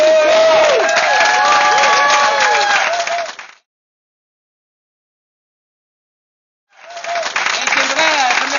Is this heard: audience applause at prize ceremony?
yes